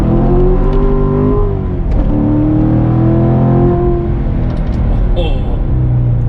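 A Corvette C7 Grand Sport engine revs loud and close, its pitch climbing and dropping through gear changes as the tires skitter slightly on acceleration, with a voice talking over it.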